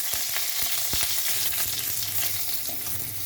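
Two green chilies hit hot oil already tempered with cumin and bay leaf, giving a steady crackling sizzle with scattered sharp pops and stirring, close to the pan.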